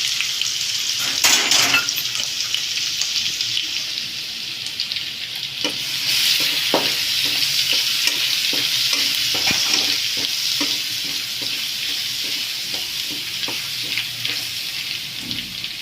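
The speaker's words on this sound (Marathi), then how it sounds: "अद्रक लसूण पेस्ट, अद्रक लसूणची पेस्ट टाकू." Ginger garlic paste fries in a pan for a paneer masala, giving a steady, moderately loud sizzle with scattered scraping clicks from stirring throughout.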